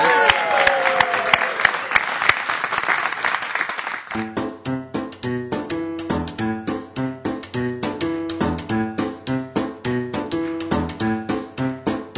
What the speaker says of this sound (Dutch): Dan geef ze even een applaus hier